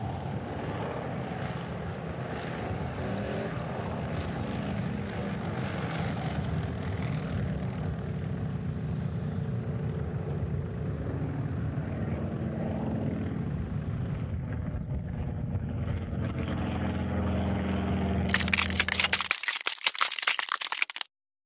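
Aerobatic display planes fly over the Slovakia Ring race track during a European Truck Racing Championship weekend, a loud sustained propeller engine roar that swells and fades before cutting off abruptly.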